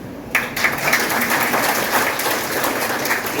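Audience at a Gujarati community talk on Jyotiba Phule and Dr. Babasaheb Ambedkar bursts into sustained applause, a dense crackle of many hands clapping steadily for several seconds with no speech over it.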